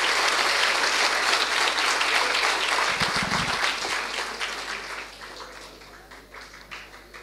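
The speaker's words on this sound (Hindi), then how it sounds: "एक बार इनका जोरदार अभिनंदन के लिए ताली बजा दीजिए" An audience at a student council event on self-reliance and entrepreneurship applauds loudly and steadily, the clapping slowly fading over several seconds with a brief low thump midway.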